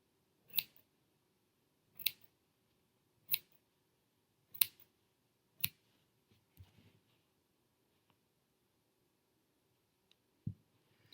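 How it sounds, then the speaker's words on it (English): Scissors snipping a handmade craft leaf, five crisp cuts spaced about a second apart followed by a few softer, quieter snips, close and isolated with no talking. "I'm going to start little and just kind of start trimming them a little bit."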